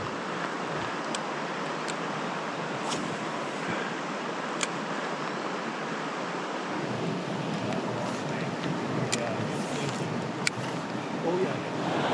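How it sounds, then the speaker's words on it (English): Short river rapids rush steadily as a continuous broadband roar of churning water, close and fairly loud, with faint wind buffeting and occasional light clicks on top. "Now we have a bunch of short rapids that hopefully we can run."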